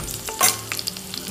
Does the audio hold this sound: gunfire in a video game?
no